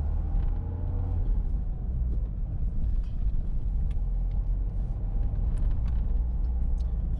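A learner's car rolls and slows in a French town street after the clutch is released, a low steady engine rumble with tyre and road noise, no talking.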